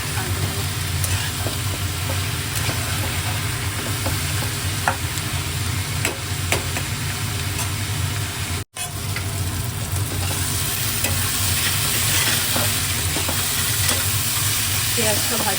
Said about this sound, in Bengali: পেঁয়াজটা ভাজা হয়ে আসছে আমার।